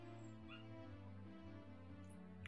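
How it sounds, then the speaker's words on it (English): A dog whimpering from inside a crate in another room: faint, continuous high whines and soft yips, distant and quiet against a low background hum, no talking. "I might hear my dog."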